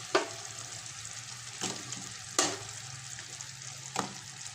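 A pan of melting sugar for caramel is shaken on the stove, giving a steady soft sizzle broken by four sharp scraping jolts, fairly quiet with no talking.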